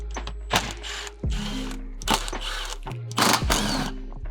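A wrench clatters and ratchets in several short bursts while 10mm bolts come off the mud guard of a Suzuki Jimny JB74, with a constant low hum underneath and no talking.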